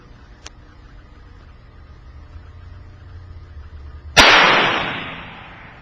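A single loud, close gunshot from a non-restricted firearm aimed at a target cracks after a few quiet seconds, then trails off in a decaying outdoor echo.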